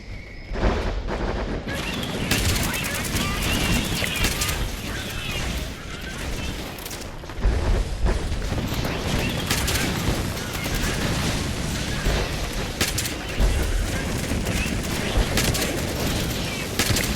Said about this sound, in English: I think we just need a few more shotgun kills.